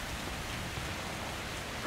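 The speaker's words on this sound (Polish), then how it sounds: "On deszcz pada." Steady, dense rain falls in the game Metro Exodus, an even hiss of drops with no breaks across the short stretch.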